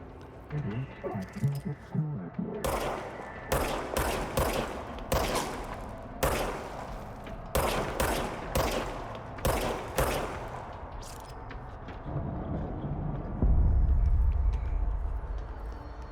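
Gunfire in the video game Control, heard as repeated sharp bursts of shots in quick volleys with short pauses between, loud and close, ending with a low rumbling swell.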